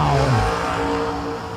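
Drag race cars, including Ed Richardson's red Roadster Camaro, roar loud and steady at a season kick-off event, engine tone sliding down after a brief opening burst.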